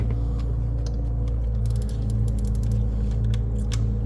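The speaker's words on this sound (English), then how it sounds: "we're going to go ahead and loosen up this 12 millimeter bolt" A ratchet loosening a 12 millimeter fuel rail bolt on a 2011 Toyota Tacoma 2.7L four-cylinder, heard as a quick run of sharp clicks over a loud, steady low hum, with no speech.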